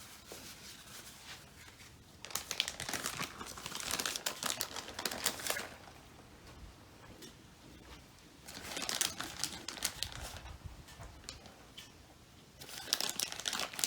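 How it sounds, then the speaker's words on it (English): Paper towel crinkles and rustles in bursts as hands are wiped beside a Blackstone griddle while a chicken quesadilla cooks, with several close, fairly loud crumpling passages separated by quieter pauses. "now get a paper towel, wipe my hands"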